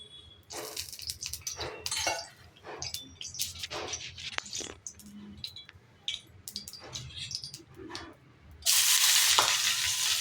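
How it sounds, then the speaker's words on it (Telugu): Malabar spinach fries in oil with a crackling sizzle, broken up by repeated scraping stir strokes. Near the end the hiss grows much louder. "ఇప్పుడు కొంచెం ఆయిల్ వేసుకొని బచ్చల కూర వేయించుకుందాం."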